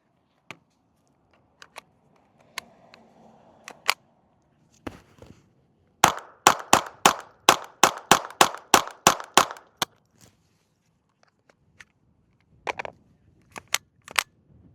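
A Ruger Charger .22 pistol fires Federal suppressor 45 grain ammunition: a rapid string of about a dozen sharp, suppressed cracks in quick succession, with a few isolated shots before and after, close and clear without speech.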